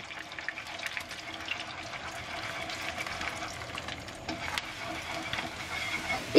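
Beaten eggs are poured into hot oil in a wok and stirred, giving a steady, soft sizzle with light stirring and scraping. The sound stays moderately quiet throughout.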